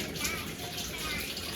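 Water drains steadily from rice being prepared for a chicken biryani, a continuous close rushing trickle that holds even in level for the whole stretch.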